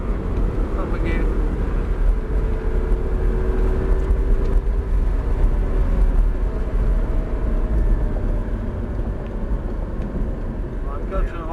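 Audi R8 supercar circling a race track, its engine a steady droning rumble throughout, partly buried under continuous talking from people in the car.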